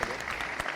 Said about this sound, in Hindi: मैं खुशबू के लिए जोरदार तालियां होगा।